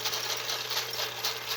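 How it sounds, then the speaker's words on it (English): A 1960s Old Smoky toy steam engine runs steadily, giving a fast, even mechanical chuffing and whirring with a rapid pulsing rhythm, close up and alone. "But it's Old Smoky steam engine. They're made in the 60s."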